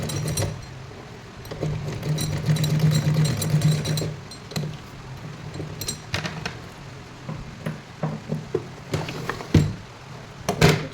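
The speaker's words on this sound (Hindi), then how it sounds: "अब हम एक बार इस पर दोबारा से यहाँ पर इसी सिलाई पे लगा लेंगे ताकि हमारी ये पक्की हो जाए" A sewing machine stitches and back-stitches a small doll's dress seam, a steady close mechanical whirr with a low hum that runs in bursts, broken by short pauses, clicks and taps as the fabric is handled.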